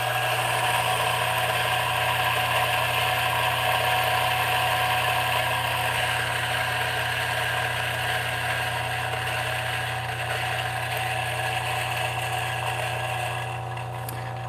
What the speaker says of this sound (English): It's not the fastest grinder